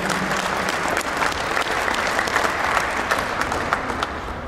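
Audience clapping at the Cupa Dacia 2011 gala, a sustained burst of many hands applauding together, loud and steady with slight swells before easing off.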